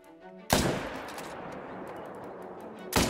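A loud gunshot in the Call of the Wild hunting video game cracks at about half a second, its echo trailing off, then a second shot fires near the end.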